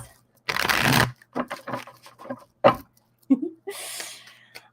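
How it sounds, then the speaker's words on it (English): A deck of playing cards is shuffled during a live psychic card-reading show: a dense riffling burst lasting about half a second, followed by quieter card handling while a person talks. "Let me get these cards good and shuffled here."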